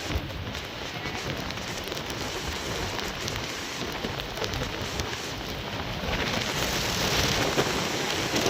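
Heavy Typhoon Uwan rain beats down outdoors in a thick, continuous hiss with wind gusting through it, growing louder toward the end, with no talking.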